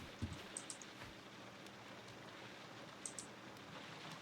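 Rain falls in a Sherlock Holmes video game, a soft, steady patter at low volume with a few faint ticks and clicks on top.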